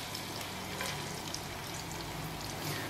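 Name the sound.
garlic, cloves and shallots frying in butter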